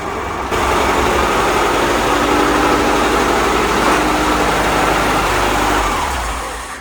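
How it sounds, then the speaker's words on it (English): VW Baja Bug with a freshly painted one-piece front end idles loudly and steadily nearby as it is driven into a garage, its engine note tapering off near the end. "can drive his own car into the garage"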